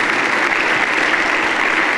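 A church congregation at a Sunday sermon applauds with a dense, loud, sustained burst of clapping from many hands that fills the whole moment.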